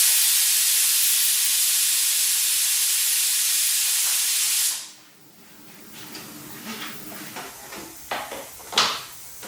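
An air fryer roars with a loud, steady fan hiss while cooking oiled vegetable rounds at 190 degrees, then cuts off abruptly, leaving quieter clicks and light handling knocks.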